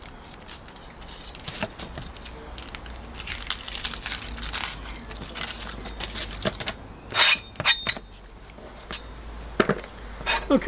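Knife slicing onions for fairground hot dog onions, a close, irregular run of crisp crunching cuts and board taps, with a denser flurry of strokes partway through.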